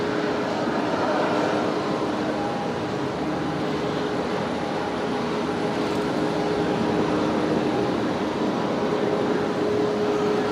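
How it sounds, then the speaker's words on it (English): Singapore airliner taxiing along a taxiway at Brisbane Airport at night, a steady broadband engine rumble and whine with faint tonal hums, constant and moderately distant for the whole stretch with no voices. "Singapore's coming along taxiway Zulu, so I should be able to see it any second."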